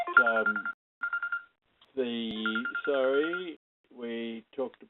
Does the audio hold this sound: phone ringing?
yes